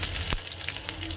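Cumin seeds, dried chillies and chopped garlic sizzle in hot oil in a home kitchen, a close, steady hiss broken by sharp crackling pops.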